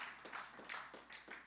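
Soft, distant applause from a church congregation during a sermon, with a few pulsing waves of clapping at low volume and no voices over it.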